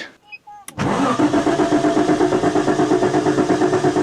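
A Jaguar car engine cranking but failing to start, a loud, steady, rhythmic starter-motor churn that begins abruptly after a short, faint lead-in and keeps pulsing without catching.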